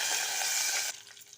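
Mustard seeds and curry leaves frying in hot oil while cooking a curry for puri, a loud steady sizzle that drops abruptly to a quieter crackle partway through.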